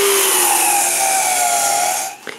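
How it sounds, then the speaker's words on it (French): A power sander works over the wood of an outdoor patio under restoration, a steady, loud whine with a slowly shifting pitch that runs continuously before cutting off near the end. "Moi, je commence à sabler."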